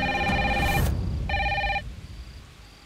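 An old-style telephone bell rings in two bursts, loud and close, the second shorter, before fading into quiet room tone.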